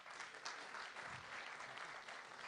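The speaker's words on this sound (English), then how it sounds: "Okay, give them a round of applause." Applause from an audience at a TechHR 2018 conference session after a game contest, a faint, steady wash of many hands clapping at a distance and continuing throughout.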